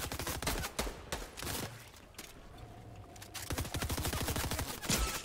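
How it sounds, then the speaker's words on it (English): Fortnite bosses firing guns, dense bursts of rapid shots that thin out briefly midway and then resume heavier, loud and close, with no talk over the gunfire. "These bosses are shooting at me!"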